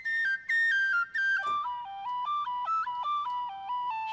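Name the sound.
tin whistle legato from Project Sam Lumina library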